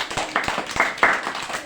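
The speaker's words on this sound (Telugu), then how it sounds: "అందరూ గట్టిగా ఒకసారి క్లాప్స్ కొట్టండి" Children clap their hands together in a classroom, a few scattered, uneven claps close by rather than full unified applause.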